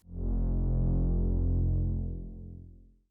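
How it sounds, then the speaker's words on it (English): Deep cinematic bass synth in a modern metalcore synthwave track, a sustained low droning tone with rich harmonics that swells in and slowly fades over about three seconds, heard alone. "we have some new elements, like this bass zimmer that sounds like this."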